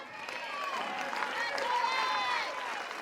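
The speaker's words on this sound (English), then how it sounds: "Crowd on its feet" Softball crowd at a college game, Florida versus Indiana, cheering steadily in a continuous wash of noise with a few whistles standing out, under a commentator's voice.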